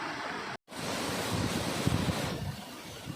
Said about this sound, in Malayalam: മറ്റൊരു ഭാഗത്തു നിന്നും ഒഴുകിയിറങ്ങുന്ന ഒരു കാട്ടരുവിയാണിത്.